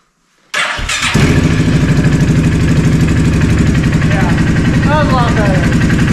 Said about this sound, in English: All right, so now let's do a cold start with the new battery.